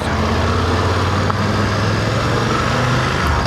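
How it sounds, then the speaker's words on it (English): A BMW F900 GS motorcycle engine labouring in second gear below 2000 rpm, a steady low drone with knocking under load, loud and continuous with no voices. "I can see that in dynamic on 2nd gear, below the 2000 revs per minute, it starts knocking."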